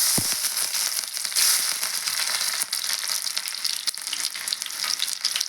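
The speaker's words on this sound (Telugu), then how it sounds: "ఇక్కడ ముక్కలు అయితే వేస్తున్నానండి తాలింపులో." Vegetable pieces dropped into hot tempering oil for Rayalaseema buttermilk curry sizzle loudly and steadily up close, with crackling spatters and stirring throughout and no talking.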